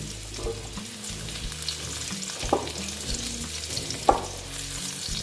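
Potatoes fry in a pan with a steady soft sizzle and occasional stirring clinks, fairly quiet and alone without talk, for a vegetarian mung dal kalia.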